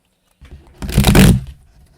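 Modern Witch Tarot cards riffle in a single brisk shuffle, a short burst of papery flutter that swells and fades, close and alone.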